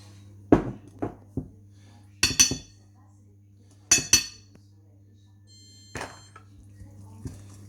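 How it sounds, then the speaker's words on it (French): Apple cake batter with vanilla is stirred in a bowl, heard as sparse clinks and taps of utensil against the dish, separated by quiet stretches over a steady low hum. "On mélange tout ça bien."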